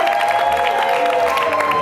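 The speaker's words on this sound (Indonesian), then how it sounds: "Boleh kita berikan tepuk tangan?" Studio audience applauding and cheering on the Indonesian dating show Take Me Out, a dense, continuous crowd sound filling the whole moment.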